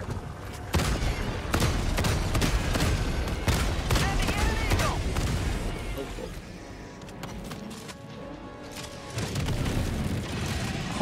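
Bursts of explosive airburst rounds and gunfire in a video game, a dense rumbling barrage with repeated sharp booms that eases mid-clip and picks up again near the end.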